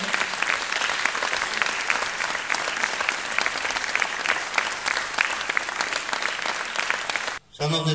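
A concert audience at a Podillia weekend show applauds steadily to welcome volunteers onto the stage, dense clapping that cuts off abruptly just before the end.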